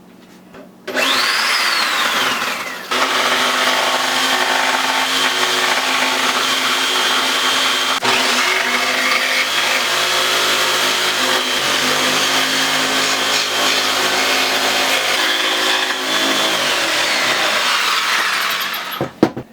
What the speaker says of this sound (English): drill a hole in it and then use the jigsaw to cut out the hole